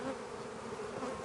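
Honey bees buzzing inside an overwintered hive during an inspection, a steady close droning hum that holds without a break.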